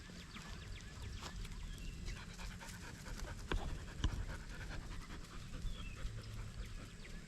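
Young puppies under a year old panting steadily and close by, a rapid breathy rhythm running throughout with a few brief sharper sounds and no talking.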